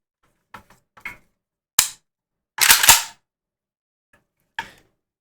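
AK-pattern rifle, a pistol-configured AK without a stock, firing loud sharp reports: two single shots, then a fast cluster of three or four, and one last shot, with quieter clicks and handling sounds in between.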